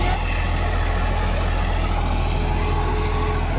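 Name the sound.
tractor pulling a tota plough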